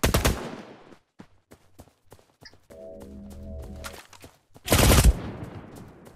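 Gunfire in the mobile shooter game Cyber Hunter: sharp, scattered single shots ring out, with two loud bursts near the start and end and a low rumbling stretch in the middle.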